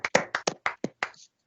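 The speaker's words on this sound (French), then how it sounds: "je crois qu'on peut tous applaudir" Seven sharp, evenly spaced hand claps at an awards ceremony for a short film, close and distinct with silence between each, trailing off at the end.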